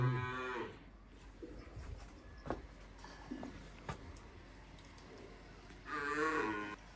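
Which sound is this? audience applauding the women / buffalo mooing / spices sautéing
buffalo mooing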